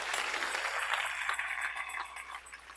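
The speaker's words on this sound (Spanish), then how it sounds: "Dele ese aplauso al Señor." Congregation at a church service applauding together, a steady wash of many hands clapping that holds throughout and fades slightly at the end.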